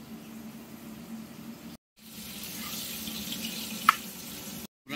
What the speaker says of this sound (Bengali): লবণ সামান্য পরিমাণ দিয়ে আলুটাকে ভেজে নেওয়া হবে।